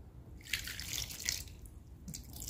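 Water is poured into a cooking pot as quiet splashing and trickling with a few brief drips, close and faint.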